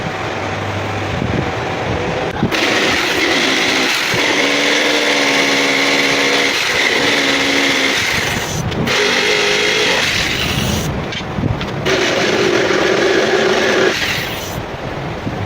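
Jigsaw with a soft blade cutting through a flush door during a door repair, a loud continuous buzzing saw run close by with brief pauses and changes in pitch as the cut progresses.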